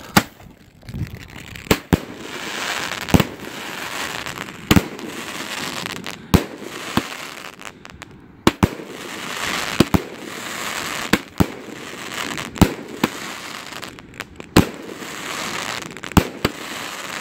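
A Red Apple Solaris 16-shot firework cake fires a steady string of sharp launch thumps and crackling bursts, about one every second, over constant fizzing and rumble, with no talk.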